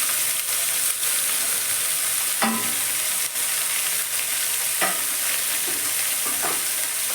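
Green peas and tomato fry in a hot pan with a continuous loud sizzle and hiss, and a few stirring clatters come through along the way.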